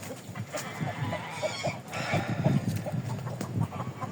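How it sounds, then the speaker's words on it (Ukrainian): Agitated clucking and squawking from several frightened chickens, overlapping and restless, close by with a busy barnyard background. "Не ту курточку одягнув, кури злякалися."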